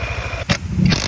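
A motorcycle engine with a noisy drive belt runs up close, a rapid rhythmic chugging broken by two sharp rasping bursts of belt noise within about a second.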